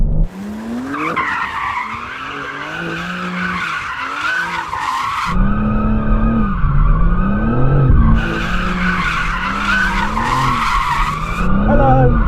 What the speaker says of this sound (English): The two-wheel drive mode is pretty cool as well because you can just give it a lot of slidey slide.